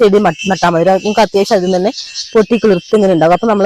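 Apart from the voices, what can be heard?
crickets chirping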